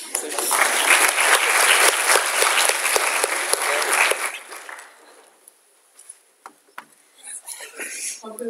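An audience claps hard for about four seconds at the close of a Friday class session, then the applause thins into a few scattered claps and voices.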